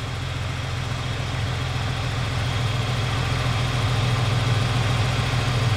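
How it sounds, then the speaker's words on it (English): An abandoned car's engine idles steadily while warming up, a constant low rumble with a throbbing pulse that stays close and even throughout, no voices over it. "I'll let that warm up so it gets all the gunk out of the motor"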